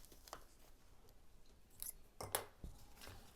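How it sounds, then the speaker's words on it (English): Scissors cut paper in a few quiet, separate snips and crisp rustles. The sounds are faint and spaced out, with no voices. "So I need to cut this out first. Now I need scissors"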